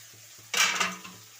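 A spoon stirs three sauces together in a bowl, giving one short, close scraping clatter against the bowl that lasts about half a second over a quiet background hum.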